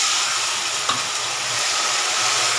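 Browned onions fry in a pan with spices just added, giving a steady loud sizzle and hiss with a brief clatter of stirring partway through.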